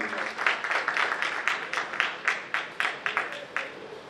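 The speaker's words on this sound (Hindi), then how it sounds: "जोरदार ताली इस बच्चे के लिए।" An audience at an event in Aggarwal Bhawan breaks into loud, sustained applause for a child's achievement, with dense rhythmic clapping running steadily throughout.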